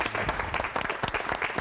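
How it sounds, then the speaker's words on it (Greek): An audience at a live Greek concert claps in a dense, steady burst of applause for the whole moment, loud and close with no voices standing out. "Χειροκροτήστε, καλέ."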